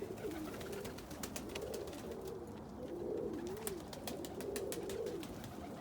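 Roller pigeon carrying stipper, Andalusian and opal genes cooing in soft, repeated rolling phrases, close by over steady background hiss, with no talk.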